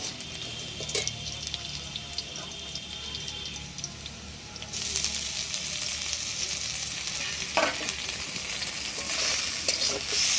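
Half-cooked potatoes sizzle in a pan with grated ginger added for a tender okra jhal, a steady close frying hiss that grows brighter and louder midway, with stirring scrapes.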